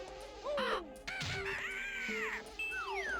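Bird cries from the Banjo-Kazooie HD remaster on Xbox One: a few short, harsh crow-like caws, fairly close and clear, layered over a light game music bed with no speech.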